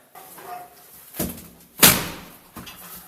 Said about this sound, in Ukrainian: Двері відкриваємо!